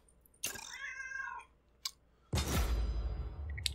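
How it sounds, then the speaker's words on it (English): A pet cat gives a single clear, close meow with a rising then falling tone, followed by a sharp click and a burst of louder rustling noise. "He came and meowed."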